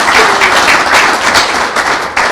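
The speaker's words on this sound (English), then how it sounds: "I think that deserves a round of applause" A round of applause at a grant award announcement event for high-speed broadband funding; a crowd claps steadily and fairly loudly in a room for a couple of seconds.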